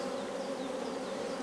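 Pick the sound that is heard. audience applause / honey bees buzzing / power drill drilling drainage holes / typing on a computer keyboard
honey bees buzzing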